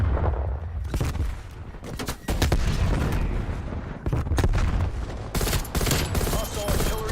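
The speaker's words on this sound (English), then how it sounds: "Artillery targeting detected. Artillery inbound." Heavy artillery fire in a video game, a dense run of booming blasts and rapid shots rolling loud and close, almost without pause, for several seconds.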